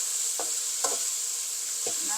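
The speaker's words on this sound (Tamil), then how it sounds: "எல்லாம் நல்லா மிக்ஸ் பண்ணுறோம்." Yellow and red capsicum and onions for pineapple fried rice are stirred in a hot pan, with a few sharp scraping strokes spaced over a continuous sizzling hiss, close and clear.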